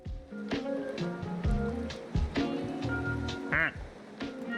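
Cartoonish duck quacks from the video game Slay the Princess sound several times in quick, uneven succession among other clicky game effects, loud and close, with no speech over them.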